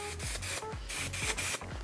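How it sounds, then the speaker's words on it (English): Dry texture hair spray hisses from a can in short repeated bursts, worked onto a mannequin's hair from about six inches away, close and fairly loud with brief gaps between sprays. "let's work our dry texture spray"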